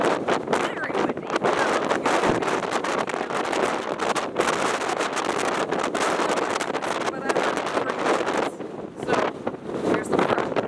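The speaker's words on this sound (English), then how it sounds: "Very windy." Strong wind buffets the microphone on the deck of the Ovation of the Seas cruise ship, a loud, continuous rushing roar with gusty surges throughout.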